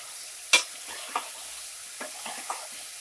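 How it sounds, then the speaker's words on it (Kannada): Potatoes and brinjal with peel on, tossed into hot oil and stirred in a pan, give a sharp clatter as they drop in, followed by scattered scraping stirs over a steady low sizzle, close by with no voices. "ಈಗ ಆಲೂಗಡ್ಡೆ ಮತ್ತು ಬದನೆಕಾಯಿ ಹಾಕ್ತಾ ಇದ್ದೀನಿ."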